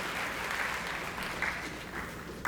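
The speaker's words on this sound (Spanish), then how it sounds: "Las palmas de todos nosotros son muy fuertes para recibirlo" A seated audience at a scientific talk applauds to welcome a doctor to the podium, a soft, steady wash of clapping heard from some distance with no voices over it.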